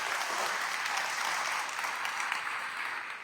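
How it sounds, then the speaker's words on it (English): An audience applauds panelists after a panel discussion on AI at TIFF: dense, steady clapping fills the whole stretch at an even loudness, with no voices standing out. "Round of applause for the whole panelists."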